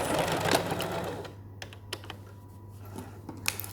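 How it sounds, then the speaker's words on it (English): A sewing machine whirs briefly and then stops, followed by a few scattered clicks and taps. "I'm going to sew all the way across, straight over the zipper"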